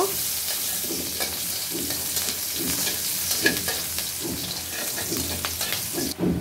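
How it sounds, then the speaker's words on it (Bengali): Sliced onions frying in oil left over from frying fish in a home kitchen pan, with a steady sizzle under repeated stirring scrapes throughout, no talking. "পেঁয়াজগুলো সুন্দর করে ভেজে নিব।"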